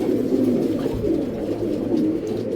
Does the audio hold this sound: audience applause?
no